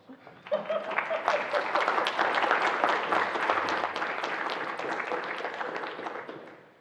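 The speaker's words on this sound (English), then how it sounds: "And then give her an applause." An audience at an academic panel discussion on climate and migration applauds a panelist, clapping that swells quickly, holds steady for several seconds and then fades out.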